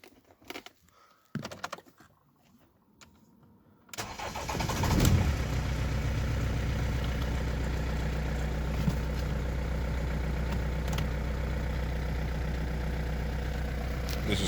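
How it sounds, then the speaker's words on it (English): A BMW E46 320d diesel engine with its accessory belt removed cranks and starts after some quiet handling noises, then settles into a steady, loud, close diesel idle. "This is how the engine runs without accessory."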